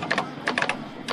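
Clunky mechanical keys on a Sage IV development system keyboard, typed in three short bursts of clattering strokes with pauses between, close and fairly loud, with no voices.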